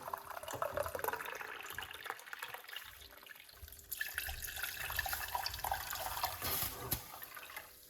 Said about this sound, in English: pour in some hot water from the kettle